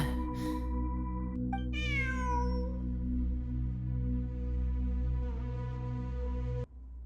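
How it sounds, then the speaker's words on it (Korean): A cat in a video game gives one clear, rising meow over a steady humming ambient background drone, with a softer tone swelling later before the background cuts off. "어? 저기 봐. 고양이야."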